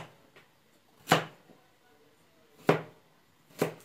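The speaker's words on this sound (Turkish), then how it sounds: "Havuçlarımız farklı şekilde doğranıyor." A knife chops carrots into matchstick strips for Uzbek pilaf, three crisp, separate strikes on a board with uneven pauses between them, close and clear with no talking.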